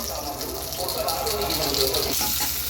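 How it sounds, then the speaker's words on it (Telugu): Chillies, curry leaves and sesame seeds frying in a pan for a tomato roti pachadi, a steady crackling sizzle with a brief louder spatter, while someone talks over it. "మిర్చి అయితే వేగినాయి దాంట్లో కొంచెం కరేపాకు నువ్వులు"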